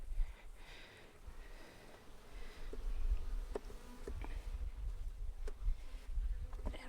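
Honeybees buzz busily around an open hive after a morning storm, a dense steady drone of many wings close by, with sharper passes as single bees fly near, and no talking.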